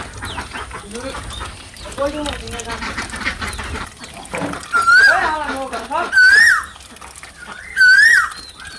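Domestic ducks and chickens quack and cluck close by in a busy flock returning to a village home at dusk, with a few loud, shrill calls standing out and people talking throughout.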